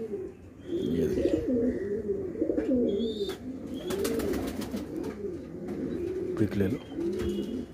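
Rampur galwe pigeons coo in repeated soft, throaty rolling calls while being handled up close, with occasional wing flutters and someone speaking over them.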